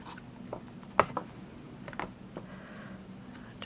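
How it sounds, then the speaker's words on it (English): A quilting cutting mat is rotated on a work surface, with pins and a ruler resting on it, while a pinwheel block is pieced. It gives faint, brief creaks and soft clicks, one sharper knock in the middle, with no talking. "I'm just going to rotate my mat so we don't want those to move."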